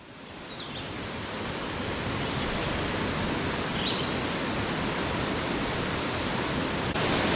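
High water on the Savage River rushes in a dense, steady roar of broadband flow, loud and unbroken with no voices.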